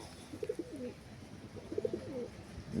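Two pigeons coo softly at close range, giving a pair of low, rolling coo phrases with a pause between them over faint background noise.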